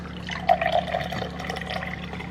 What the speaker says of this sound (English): I've never liked the sound of things pouring into a cup, but this is my cranberry juice.